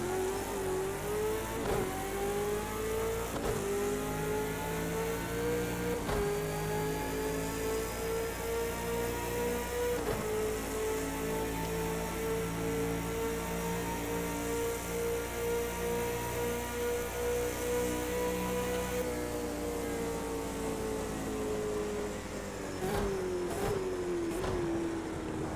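A race car engine in Project Cars 2 on the Bathurst circuit drones loudly for a long stretch, its pitch rising and falling gently with several sharp clicks and pops from shifts along the way, no voices present.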